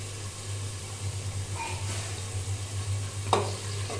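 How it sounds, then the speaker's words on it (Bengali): Spices and ginger paste sizzle and fry in a pan for home-style biryani, a steady soft hiss with a low hum beneath and a single sharp clatter near the end. "আগে মশলা একটু ভালো মতো কষিয়ে নিই"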